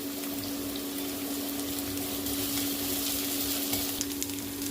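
Onions frying with curry leaves in a pan for a village-style chicken liver fry, a steady close sizzle with crackling spits and a faint stirring scrape, no voices.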